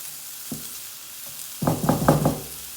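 Onions sizzling in butter in a pan on a hob, a soft sputter with a couple of light knocks followed by a louder burst of crackling and stirring, close and without talk.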